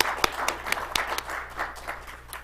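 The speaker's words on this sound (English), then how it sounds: "they deserve a round of applause" Scattered audience clapping at a community update gathering, fairly quiet and uneven, with a few sharper individual claps standing out over a low room hum.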